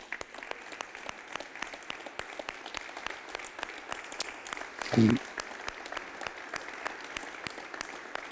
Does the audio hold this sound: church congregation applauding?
yes